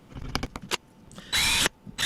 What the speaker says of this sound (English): Then I'll drill my pilot holes to accept the screws.